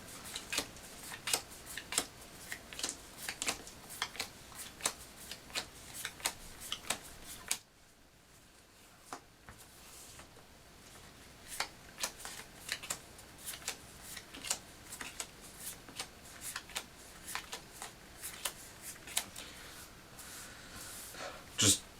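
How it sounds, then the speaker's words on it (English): Light cardboard and card-handling taps from the Risk Warhammer 40,000 board game as cards are slid back into the box insert, a steady run of soft clicks and rustles up close with a short quieter pause partway through. "Let me just put the cards back in there."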